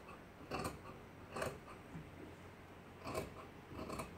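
Scissors cut stretchy knit fabric in four distinct close snips, each a short crunchy slice separated by brief pauses with quiet handling noise between.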